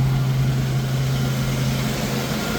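Jeep engine idling slightly high after a fuel and ignition refresh, a steady low rumbling drone held at an even pitch, close by and with no talking.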